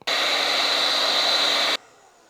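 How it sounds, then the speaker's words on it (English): A heat gun blows steadily at close range on windscreen weather stripping, a loud continuous whooshing hiss with a high whine that cuts off abruptly, leaving faint room noise. "try do is get a heat gun on that and try and carefully remove it."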